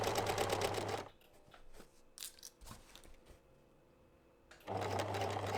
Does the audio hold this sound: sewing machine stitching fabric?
yes